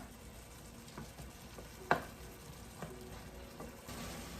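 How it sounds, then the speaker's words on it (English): Tomato softening in a hot pan for Jamaican-style chorizo pasta gives a soft, steady sizzle and faint frying crackle, with one sharper clink near the middle and a few quieter taps. "Just let that tomato cook, get soften."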